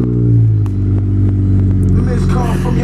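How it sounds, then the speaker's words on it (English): A car with its catalytic converter removed runs loud, its engine rumbling with a deep, steady exhaust drone and a slight rev change early on, heard up close. "Car's had the catalytic converter removed already, so it's loud, it appears."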